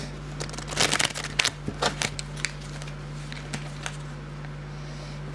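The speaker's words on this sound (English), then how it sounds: "Just do a little shuffle." A deck of playing cards is shuffled close by, with a burst of quick riffling snaps and flicks early on that thins to scattered soft taps.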